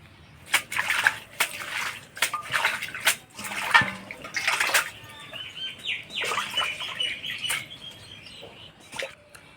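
Sliced eggplant and gima leaves are washed in water, with splashing and sloshing in irregular bursts close by, birds chirping faintly outdoors, and no talk.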